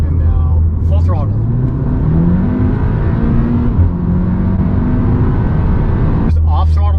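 A Volkswagen with a COBB-tuned 7-speed DSG accelerates at full throttle, its engine note climbing steadily and loudly through the gears. Someone talks over the sustained roar from inside the car.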